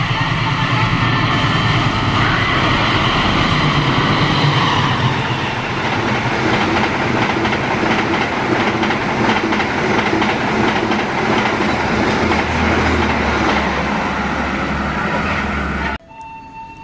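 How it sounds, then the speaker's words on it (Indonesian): The Gajah Wong 106 passenger train rolls past loudly and close, a sustained roar of wheels and carriages with rhythmic clacking over the rails, ending abruptly as the last car clears. "Kemudian kereta api Gajah Wong 106."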